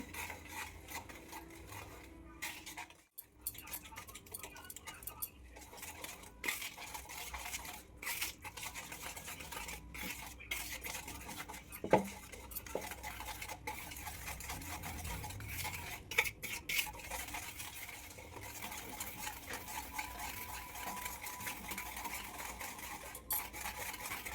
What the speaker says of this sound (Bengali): এবার এটা ভালো করে মিশিয়ে নেব আস্তে আস্তে মেশাতে হবে